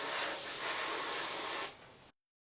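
A Ta2Pro P1 airbrush sprays paint in a steady, close hiss for shading, holding even for about a second and a half before tapering off and cutting out abruptly.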